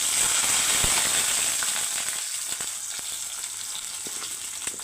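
Small onions drop into hot oil in a pan and fry with a loud, steady sizzle while making anchovy thoran, with scattered crackles and pops. The sizzle eases slightly as it continues.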